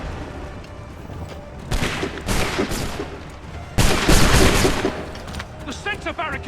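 Gunfire volley from musket-armed troops in Assassin's Creed III, with bursts of shots at two moments and a shouting voice amid the battle noise.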